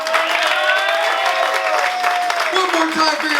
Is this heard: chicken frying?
no